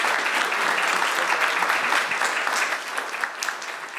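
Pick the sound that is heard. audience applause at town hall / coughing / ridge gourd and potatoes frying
audience applause at town hall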